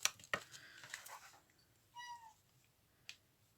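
A cat meows a few times indoors, with a clear, drawn-out tonal meow in the middle standing out against quieter rustling and handling noises.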